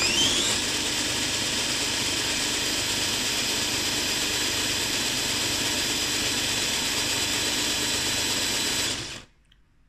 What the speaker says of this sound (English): I also built a small dyno, and we can see what kind of a speed we can reach